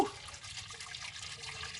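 Hot engine oil drains steadily from a car into an oil pan, a continuous soft liquid trickle and splatter heard close and at low volume.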